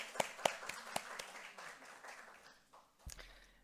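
A church congregation at a Sunday service applauds, a few sharp, distinct claps standing out near the start over a faint, thin patter that fades away, quiet overall and ending with a soft thump.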